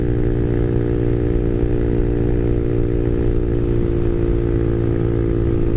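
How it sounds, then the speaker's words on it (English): Small Honda Navi scooter engine and exhaust running steadily, a buzzy, dirt-bike-like drone with constant loudness and no talk over it. "I do like the way the exhaust sounds though. It sounds like a little dirt bike."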